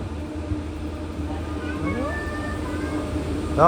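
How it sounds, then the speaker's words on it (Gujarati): A train rumbles slowly into a station with a low, steady drone, and faint metallic squeals rise and fade as it nears. "ટ્રેન આવી ગઈ કરી, ધીમે ધીમે આવે છે"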